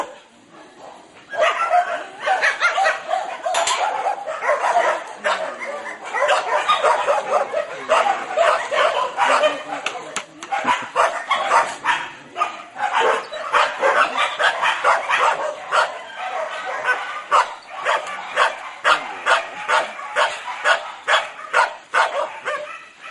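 Rescued dogs at an animal rescue shelter in the Philippines bark and yip in a loud, near, continuous chorus of overlapping rapid barks with occasional whimpers.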